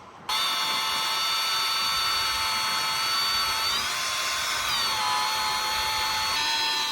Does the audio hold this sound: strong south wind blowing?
no